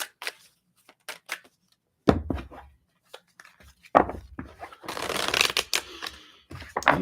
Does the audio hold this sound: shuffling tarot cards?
yes